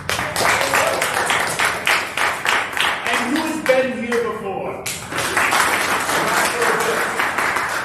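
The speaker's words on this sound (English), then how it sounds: "I'm pretty sure some of you are clapping for both." Theater audience applauding and clapping in a large hall during a live tabletop role-playing show, steady dense clapping that briefly drops while a host's voice speaks over it, then swells again.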